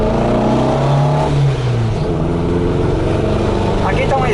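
Volkswagen Fusca (Beetle) driving on a track, its engine droning loudly and steadily with rising and falling revs, a voice talking over it.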